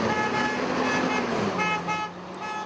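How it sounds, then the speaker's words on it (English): Truck horn honking on a road as the driver heads toward Louisiana, a loud, sustained toot blended with nearby vehicle and traffic noise, fading slightly near the end. "the truck driver honks his horn to thank the volunteers for their support"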